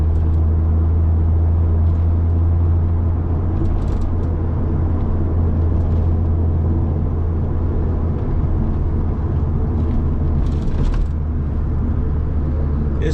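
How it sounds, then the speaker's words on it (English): A Fiat Coupe on a weekday commute drives along with a steady, deep engine drone and low road rumble from inside the cabin, holding an even, continuous tone with no voices. "Oh, nice, punchy engine."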